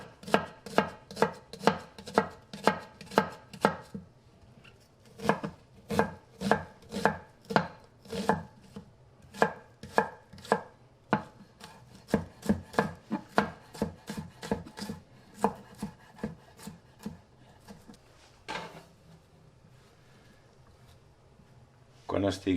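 A knife chops an onion finely on a cutting board in steady rapid bursts of crisp taps, pausing between runs, with quieter peeling and handling sounds near the end.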